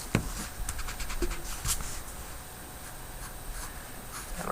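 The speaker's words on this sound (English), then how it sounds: "you write it to the side." Pen or pencil writing by hand on paper while working a math problem, soft scratchy strokes in short bursts, close and quiet.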